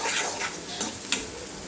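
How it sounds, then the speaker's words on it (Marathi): Chopped onion and tomato frying in hot oil in a pan, a loud continuous sizzle with a few stirring scrapes and clinks, close and without talk. "हे कांदा आणि टोमॅटो आता मी जरा 1-2 मिनिटं तेलामध्ये भाजून घेणार आहे."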